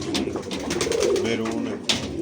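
Close, steady cooing from a pigeon with maroon feet, a low rolling murmur lasting throughout, with a brief rustle near the end.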